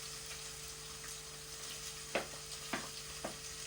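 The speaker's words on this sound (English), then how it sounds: "And then we add in our lots and lots of onions." Lots of onions frying in a pan for Hungarian paprika beef goulash: a soft, steady sizzle, then three short scraping stirs near the end, no voices.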